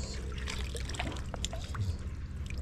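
A female blue crab puffing bubbles in water, heard as soft, close trickling and fizzing with small irregular drips and pops, fairly quiet and continuous.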